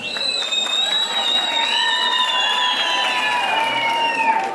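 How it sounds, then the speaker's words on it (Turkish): Wedding guests at a Turkmen wedding in Istanbul clap and cheer in a loud, steady wash of applause, with sustained high tones ringing over the crowd throughout. "alkış istiyoruz herkese"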